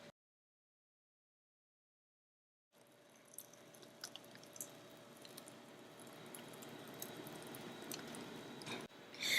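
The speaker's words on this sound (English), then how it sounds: "Now we're just going to pour this into the prepared cake pan." Thick cotton cheesecake batter pours steadily into a prepared cake pan with soft, wet squishing and dripping, starting after a few seconds of silence and continuing close and moderately quiet with faint clicks.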